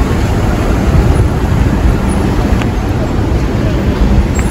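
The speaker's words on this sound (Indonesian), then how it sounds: "Hati-hati banyak mobil." Busy road with many fast cars beside Masjidil Haram in Mecca, a loud continuous wash of passing traffic noise close by with no distinct single vehicle standing out.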